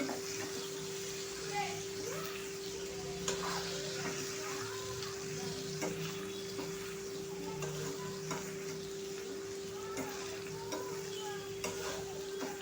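Okra bhaji stirred and frying in a pan over low gas, a steady soft sizzle with scattered scraping clicks from the spoon and a constant faint hum underneath.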